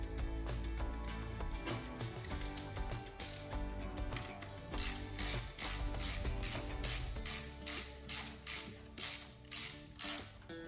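A ratchet tightens a 10mm bolt on the coil pack of a 2007 Toyota Camry LE 2.4-liter 2AZ-FE, giving close, crisp clicking bursts that settle into a steady rhythmic run of ratchet strokes.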